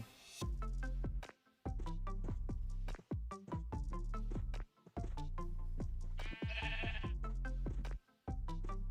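Minecraft sheep bleat over and over, lured into a farm pen with wheat, their loud, close calls following one another almost without pause.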